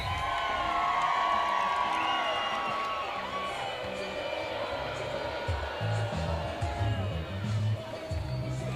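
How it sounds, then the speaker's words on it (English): Crowd at a high school football game cheers and whoops in the stands, a loud, sustained roar with shouts rising and falling, heard from within the stadium. "You can hear the crowd excited to get things underway for the 4th."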